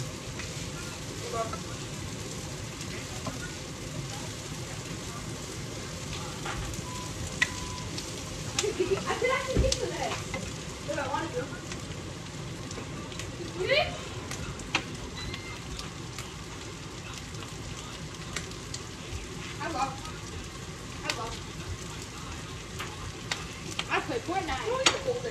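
Onion sautéing in a frying pan after garlic gives a continuous sizzle with scattered clinks and stirring scrapes, while people talk intermittently and a voice comes and goes over the cooking.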